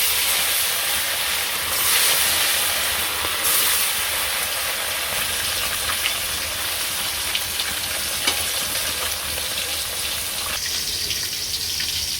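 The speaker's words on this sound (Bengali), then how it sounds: "তেল গরম হয়ে গেছে, মাছগুলো ভেজে নেই।" Fish frying in hot oil in a village kitchen produces a loud, dense, unbroken hiss and crackle that stays close and steady throughout.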